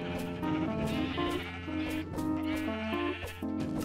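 Sheep bleating in the Minecraft video game, several calls overlapping with game music, moderately loud and without speech.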